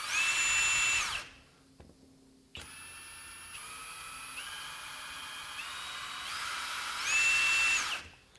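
A FLEX FX1471 cordless high-torque impact wrench runs up to about 2,000 RPM in mode 3, a steady whining motor drone that steps through several speeds and surges loud at the start and end, with a brief quiet gap early on.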